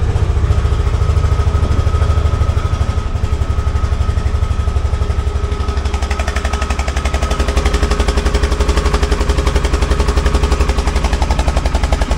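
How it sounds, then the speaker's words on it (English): Polaris Ranger 570 utility vehicle engine running steadily after a key start, a loud continuous idle with a rapid mechanical putter throughout, alone with no talking. "insert the key in the ignition here. Turn it on, touch the brake pedal."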